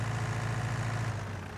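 A John Deere-style 4020 tractor engine idles in Farming Simulator 19, a steady low rumble with an even mechanical throb, close and constant without speech.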